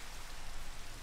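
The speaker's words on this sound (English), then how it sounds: "Ooh, it's raining. Hello, rain." Steady rain hisses down in the Minecraft game world, a dense, even patter on surfaces that fills the short stretch with no voices.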